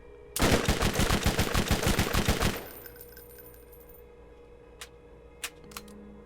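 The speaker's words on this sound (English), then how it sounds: "It's only an SMG, so I don't want to fire at him too far away." SMG gunfire in the video game Borderlands: a loud, rapid burst of about a dozen evenly spaced shots lasting around two seconds, then a quieter background with a few sharp isolated clicks.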